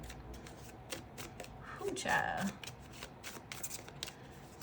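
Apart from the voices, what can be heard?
shuffling a deck of yes/no cards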